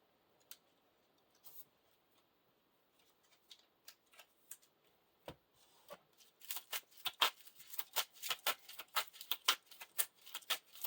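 A deck of playing cards for a card game gets shuffled nearby: a few scattered light clicks and taps, then a dense run of crisp, papery riffling snaps in a quiet room.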